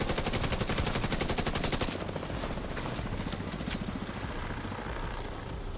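Rapid automatic gunfire rattles without pause over the heavy, rhythmic thump of a helicopter's rotors during a firefight in The Division 2, both loud and close, with the shooting thinning out partway through while the rotor drone continues.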